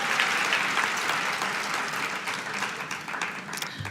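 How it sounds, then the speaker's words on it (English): A conference audience applauds the day's exhibitors with steady, dense clapping that fills the room at a fairly even level throughout, tapering only slightly near the end. "So if we want to give a round of applause to our exhibitors today."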